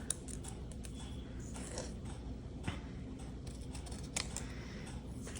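Scissors cutting paper for a disc-bound travel planner, quiet close snips and crisp crunches spaced irregularly across a few seconds, faint against low room hiss, with no talking.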